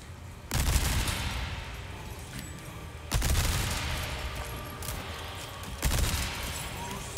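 Three long bursts of rapid SMG fire from the Resident Evil 4 Remake, each striking suddenly and trailing off into a dense rattling roar, loud and close with no talk.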